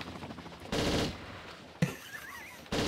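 Bursts of automatic gunfire in a Tomb Raider custom level, two loud sustained volleys separated by a quieter stretch with a sharp single shot, heard alone without speech.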